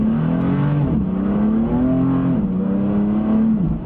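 A BMW F80 M3 accelerates hard, its engine note climbing steadily through the revs with a brief dip at each gear change, heard close and loud from inside the car with no talking.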